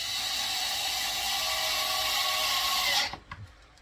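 A small 4-volt cordless screwdriver drives screws into a bandsaw table, whirring steadily and close for about three seconds before cutting off abruptly, followed by a few faint handling knocks.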